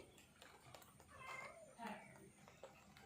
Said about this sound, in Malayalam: തള്ളപ്പൂച്ച കരയുന്നെന്ന്